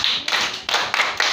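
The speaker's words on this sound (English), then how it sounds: "Clap for her." A class claps for a student in a few short bursts of nearby clapping, quick uneven rounds separated by brief pauses, with no talking.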